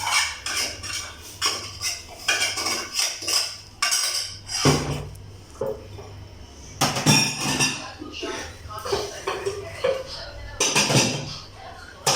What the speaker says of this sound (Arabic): نغسل بقى المواعين بتاعتنا الاول.